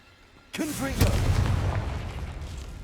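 A Confringo blasting spell goes off in Hogwarts Legacy, a sudden loud booming burst with a ringing tail that rumbles on for a couple of seconds before fading under game ambience.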